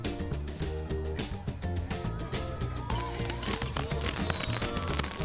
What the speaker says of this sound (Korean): 여러 요트가 한데 모여 일제히 폭죽을 쏘아 올립니다.